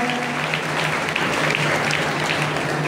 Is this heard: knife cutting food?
no